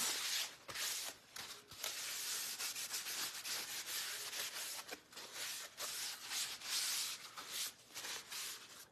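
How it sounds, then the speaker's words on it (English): Quiet, continuous rubbing and swishing of paper across a wooden surface, in uneven back-and-forth strokes, close by. "let me take this wipe or this paper towel, and I'm gonna go over this"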